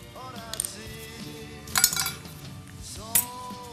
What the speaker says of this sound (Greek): Ανεκατεύουμε, δεν χρειάζεται μίξερ για το ζύμωμα